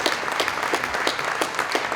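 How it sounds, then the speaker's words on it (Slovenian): An audience at a Slovenian sports awards ceremony applauds the 2022 Bloudek plaque recipient, giving a dense, continuous wash of clapping at moderate loudness. "aplavz naj bo namenjen prejemniku Bloudkove plakete za leto 2022, Toniju Vodišku"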